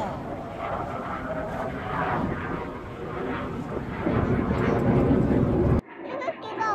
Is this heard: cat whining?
no